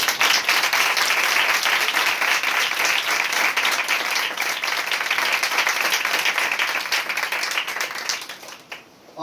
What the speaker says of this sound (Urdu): اپنے لیے آپ زوردار تالی بجائیں